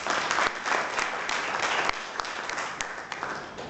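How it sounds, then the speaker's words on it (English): Audience applause for the bands at the Malaysian Association of Hotels charity jam, a dense, steady wash of clapping that holds loud at first and eases slightly toward the end. "give them a great round of applause"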